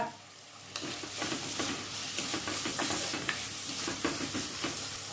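Four lengthwise-sliced onions and a handful of curry leaves fry in hot oil for a Kerala chicken jackfruit biryani, giving a steady close sizzle broken by repeated scraping and stirring clatters, with no one talking.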